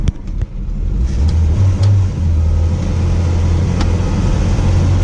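Classic Mini car engine pulling hard in second gear, a loud steady mid-low drone that holds close and continuous throughout with slight pitch rise and cabin rumble.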